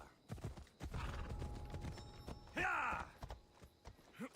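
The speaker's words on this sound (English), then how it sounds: "Alright, let's get off my horse." A horse in the video game Assassin's Creed Odyssey clip-clops with quick, uneven hoof strikes, then gives a short whinny, all faint and close.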